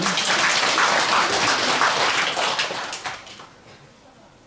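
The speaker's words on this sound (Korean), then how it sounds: "개띠들 또 박수 한번 쳐주세요" A congregation claps together at a Buddhist dharma service at Gilsangsa temple, a dense, steady patter of many hands that thins out and fades toward the end.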